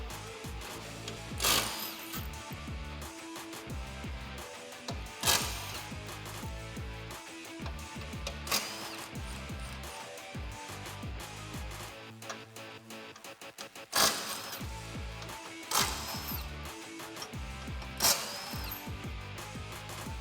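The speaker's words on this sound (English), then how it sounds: "Grab your 15mm socket and pop these off" A 15mm socket on a ratchet backs out the bolts of a 2014-2018 Silverado 1500 HD front bumper face plate: rapid, close, metallic ratcheting clicks in repeated bursts, with sharper clanks between runs.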